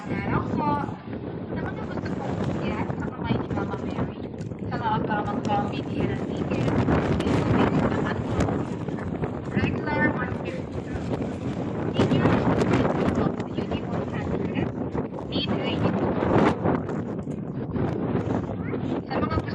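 Strong wind buffets steadily throughout, a constant roaring rush with faint voices beneath it.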